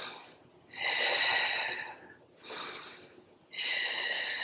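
Breath pushed out forcefully during a beginner pilates pelvic floor and core exercise, three long airy exhalations close to the mic, each lasting over a second with short quiet pauses between.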